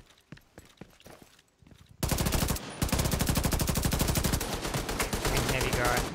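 Gunfire in The Division 2 during a solo fight at a castle settlement control point. A few scattered shots are followed by a loud, sustained burst of rapid automatic fire that lasts several seconds, with no voices.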